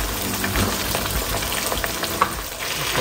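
Beef and broccoli frying in a pan give a steady, close sizzle with light crackles and occasional stirring noises, heard on its own without talk.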